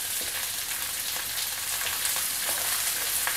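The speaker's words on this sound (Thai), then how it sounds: "ให้เอาส่วนแข็งลงผัดก่อนนะครับ" Chinese kale stems tossed in a hot pan with chilli, garlic and shallots, a dense steady sizzle with light scraping stirs throughout, close and alone.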